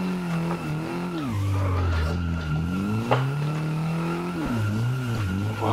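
A car in a racing video game slides out when the throttle is lifted mid-transfer, engine pitch swooping up and down with tyre squeal through the slide, loud and continuous.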